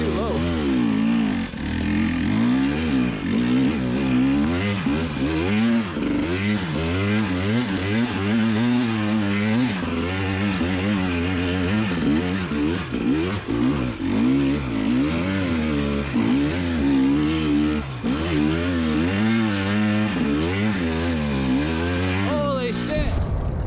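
A 2020 KTM 300 XC TPI two-stroke dirt bike being ridden on its first outing, the engine buzzing close and loud, rising and falling continuously as the rider works the throttle through low gears.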